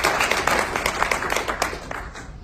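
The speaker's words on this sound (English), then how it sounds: "Let's give Megan a round of applause" A meetup audience claps together in a steady, dense round of applause that fills the space evenly for a couple of seconds, close and fairly loud, with no voices standing out.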